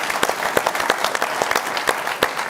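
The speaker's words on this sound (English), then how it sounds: "How about a round of applause for Angelo and his contribution?" An audience at a live On the Ball event applauds a contributor from Naples. Individual claps land sharp and close over a steady wash of clapping, brisk and continuous through the short burst.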